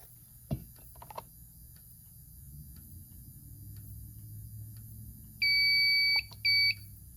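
A steady electronic alarm tone from a Notifier AFP-100 fire alarm panel beeps twice, a long pulse then a short one, after some faint clicks and a low room hum.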